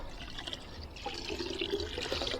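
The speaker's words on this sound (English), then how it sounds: "The water coming out of the mitt" Water dripping and trickling from a wash mitt into a rinseless wash bucket, a soft close-up patter of drops and thin streams, fairly quiet and steady with no voices.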